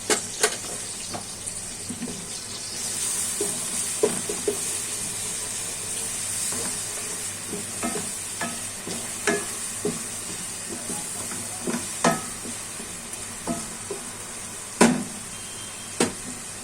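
Garlic and ginger paste frying in a pan, giving a steady close hiss with scattered soft clicks and taps of the spoon against the pan throughout.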